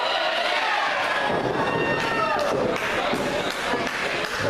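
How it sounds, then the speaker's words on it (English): A wrestling crowd at an APCW championship match chants and counts in rhythm as a wrestler punches his opponent in the corner, a loud, dense roar of many voices with regular pulsing surges throughout. "Crowd counting along with Darkmon as he punches Sean Sims in the corner"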